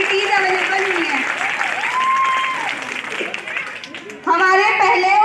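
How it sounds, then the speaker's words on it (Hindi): Audience applause at a school annual day: a wash of clapping from a crowd running under a person speaking, swelling louder near the end. "इस नए स्कूल में पढ़ने का मौका मिला, इसके लिए जोरदार तालियां"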